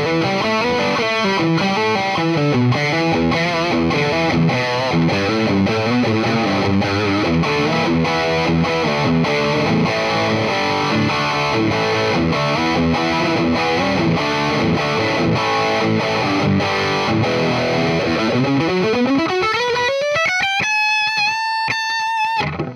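A Charvel Pro-Mod So-Cal electric guitar on its bridge pickup plays through heavy distortion, a continuous run of loud riffs and notes that ends on a sustained bending note, with no talking.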